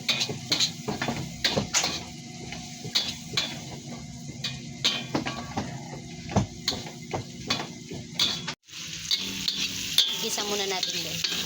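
Onions sautéing in a thin pan with oil for a sayote dish, giving a steady sizzle with frequent stirring scrapes and clacks of a utensil against the pan, close and continuous with a brief pause near the end.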